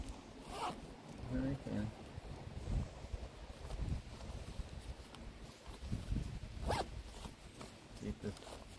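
A clothing or bag zipper is pulled shut outdoors on a windy countryside walk in Ireland, giving two quick rasping zips under steady wind noise, with people talking nearby.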